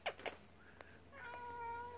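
Cat meowing from a window, a soft drawn-out meow near the end after a few small thumps and rustles, fairly faint and with no talking.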